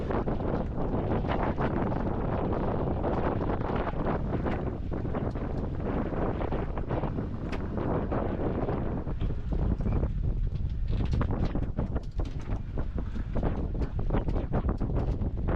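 A sailboat runs at about five knots toward a marina with the genoa just furled, steady wind roaring across the microphone and water rushing along the hull, continuous and loud throughout with no talking.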